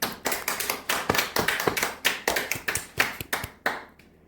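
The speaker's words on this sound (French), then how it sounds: "n'oubliez pas d'applaudir" Audience applause at a piano concert in Charente, made of dense overlapping claps that swell and pulse for about four seconds, then thin out and stop, with no voices.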